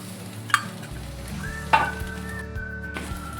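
Potato cutlet mixture stirred in a pan over a soft, low sizzle, broken by two sharp spoon knocks against the pan early on, close and otherwise quiet.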